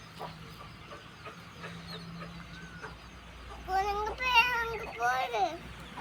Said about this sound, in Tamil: என்னது கோழியா?